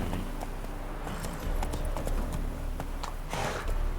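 Roach, a horse in The Witcher 3, galloping: quick, close, rhythmic hoof clip-clops over a loud continuous background rumble.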